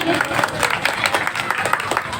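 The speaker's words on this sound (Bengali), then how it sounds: "একটু করতালি হোক" Audience at a political meeting clapping in a steady burst of applause, with a voice speaking over it.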